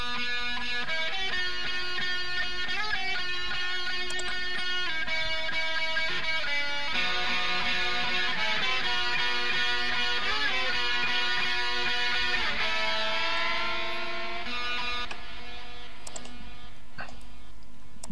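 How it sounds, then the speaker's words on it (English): Layered lead guitar harmony parts built in Reason 7 for a rock track, with several sustained melodic lines stacked together, playing continuously and steadily loud throughout with no talking. "I'll just play you the lead guitar part."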